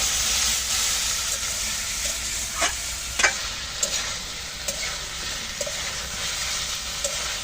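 Puti fish curry spices with chili powder and a splash of water sauté in a pan, a steady broad sizzle with a few scraping stirs and clinks of the spoon standing out over the frying hiss.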